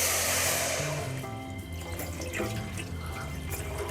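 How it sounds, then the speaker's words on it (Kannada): Water is poured from a jug into a cooking pot set on a lit burner while making French fries. It makes a steady, fairly close splashing and gushing that gradually settles, with no talking. "ಈಗ ಒಂದು ಚರಿಗೆ ನೀರು ಹಾಕ್ತೀನಿ ರೀ"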